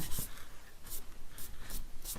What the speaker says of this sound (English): let's erase any marks that we made